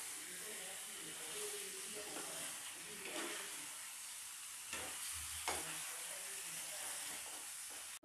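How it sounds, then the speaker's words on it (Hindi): Cauliflower and potatoes with spices are stirred in a sizzling pan, the spoon scraping and clanking a few times over a steady, close frying hiss. "और मसाले के साथ में अच्छे से मिला लेंगे गोभी आलू को"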